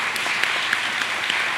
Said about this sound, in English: Can we give a round of applause for our panelists?